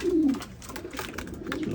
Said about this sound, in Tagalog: Ayan, nakalabas mga kalapatids.